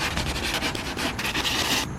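Hand sanding of body filler on a car dent repair, continuous close scratchy rubbing strokes in a steady back-and-forth rhythm, loud and alone.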